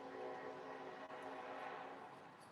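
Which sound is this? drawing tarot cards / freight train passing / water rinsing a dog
freight train passing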